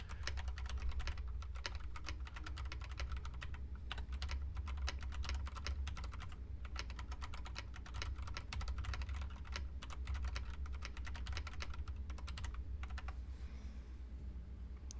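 Rapid, dense typing on a computer keyboard fitted with new keycaps, a steady stream of light clicky keystrokes at close range over a low background hum, with no talk.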